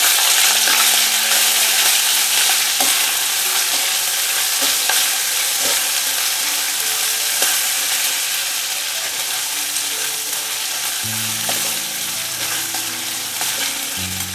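Food fries in a pan for a traditional Maharashtrian rice ukad recipe, a loud, continuous close sizzle with occasional stirring scrapes and clinks throughout.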